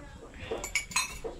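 Metal ladle clinking against a cooking pan, a few light, quick metallic taps and clinks close by, faint under low background noise.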